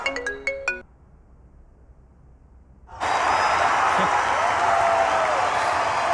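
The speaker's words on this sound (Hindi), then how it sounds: "अभी फोन उठा राहुल।" A phone ringtone plays a short melodic chime, cuts off into near silence, then loud broadband noise like applause or a crowd erupts.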